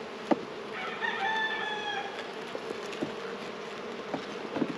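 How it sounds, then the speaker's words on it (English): Bees buzz in the bottom of a beehive box, a dense steady drone close by, with a rooster crowing faintly in the background and a few small knocks. "There's a lot of buzzing down in the bottom of the box."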